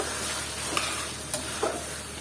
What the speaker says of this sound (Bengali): এখন মাছের সাথে মশলাটা ভালো মতো কষিয়ে নিব